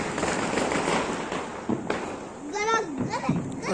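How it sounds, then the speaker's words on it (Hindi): Diwali firecrackers burst outside in a run of loud, sharp cracks and pops, some near and some farther off, while children's voices and other people talking carry on underneath. "और पटाखों की आवाज़ें तो आप सुन ही रहे हैं"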